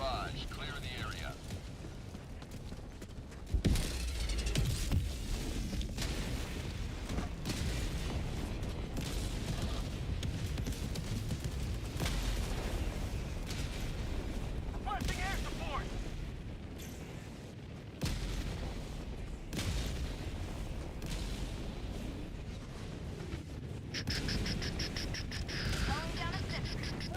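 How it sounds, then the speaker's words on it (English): Orbital barrage in a video game, a long, loud run of deep rumbling booms and blasts that rolls on with few breaks and has sudden louder hits, under intermittent talk. "Firing orbital barrage. Clear the area."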